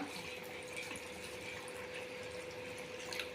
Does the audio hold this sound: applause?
no